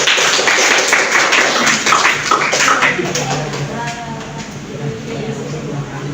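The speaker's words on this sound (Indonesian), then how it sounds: "Ayo tepuk tangan untuk kita semua." Classroom of students clapping their hands together in a burst of applause, loudest at first and then fading into scattered claps with voices in the room.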